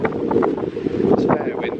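Strong seaside wind at Great Yarmouth buffets the microphone with a steady, loud roar and rumble, with faint voices mixed in.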